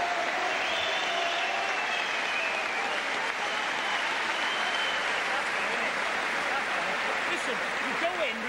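A boxing crowd at Shannons Gym during the Gary Hibbert vs Anthony Maynard bout claps and cheers in a dense, continuous roar that holds steady throughout, with voices talking beneath it.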